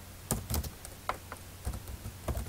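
Clicks of typing on a computer keyboard while code is edited, sparse irregular keystrokes close and fairly quiet, with no talk.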